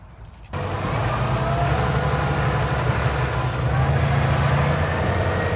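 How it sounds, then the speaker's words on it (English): A small farm tractor engine runs steadily close by, a continuous low rumbling drone that starts abruptly after a brief quiet moment and holds an even level throughout. "Just a little tractor."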